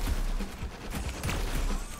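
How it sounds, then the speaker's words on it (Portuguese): Rapid gunfire from weapons in the arena shooter Diabotical, loud and close, forming a dense continuous barrage with repeated sharp bursts across the whole stretch. "Tem alguém atirando em mim."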